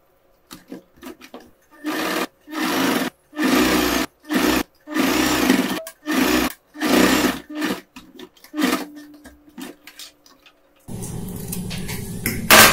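A sewing machine stitches an apron in repeated bursts of fast, buzzing stitching, each run lasting a second or so and separated by short pauses. A louder, steadier noise takes over at the end.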